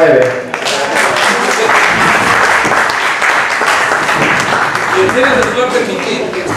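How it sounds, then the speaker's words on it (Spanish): A live audience at a Spanish-language session bursts into sustained applause, dense and steady clapping that fills the whole stretch, with a few voices mixed in. "Un aplauso por los 9."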